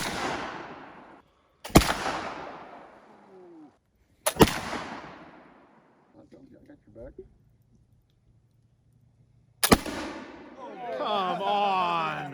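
Three loud, sharp shots from a 10 gauge muzzleloader firing a .77 caliber round ball, each cracking out with a long decaying ring, spaced several seconds apart outdoors, with people talking and cheering between them.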